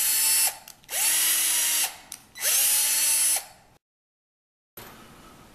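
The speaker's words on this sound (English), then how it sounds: "The screw is going to be in the end of this wood dowel. It doesn't hurt to run it in and out a few times to form the threads." A power drill drives a screw into the end of a wood dowel in three loud whirring bursts, run in and out with pauses between, then a short silence and a fainter resumed whir.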